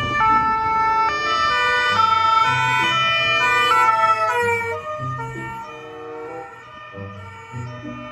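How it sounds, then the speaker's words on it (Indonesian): An ambulance siren wails loudly in a rising and falling pattern, with road traffic rumbling underneath as it passes close by. "Wah, mobil ambulans teman-teman."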